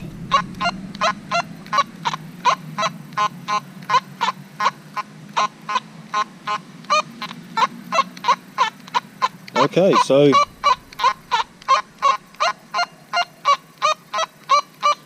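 Rapid, evenly spaced electronic beeps from a metal detector signalling a gold wedding band buried about 12 inches deep pulse steadily throughout, briefly interrupted by a short burst of speech.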